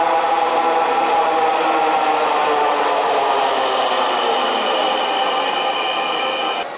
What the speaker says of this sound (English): Train just arrived. Here it is.